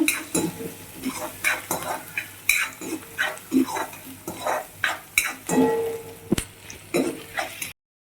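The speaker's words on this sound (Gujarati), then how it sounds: "ડુંગળીને આપણે ગુલાબી રંગ થાય ત્યાં સુધી સંતળવાની છે" Chopped onions sauté in a pan for a Rajasthani dal bati recipe, with repeated stirring scrapes and clinks of a spoon over a soft sizzle, close up, and no talking.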